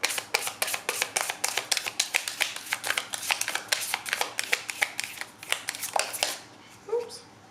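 Tarot cards shuffled and pulled from the deck during a pick-a-card reading, a dense run of crisp riffling snaps and slides that stops abruptly, followed by a brief soft handling sound.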